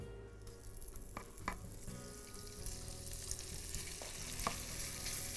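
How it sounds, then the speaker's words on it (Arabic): Chicken fries in a hot pan of corn or sunflower oil, giving a steady crackling sizzle with occasional clinks and stirring noises, fairly quiet and with no speech. "هنزل هنا معلقه زيت ذره او عباد الشمس، وهنزل فيها اول حاجه الفراخ"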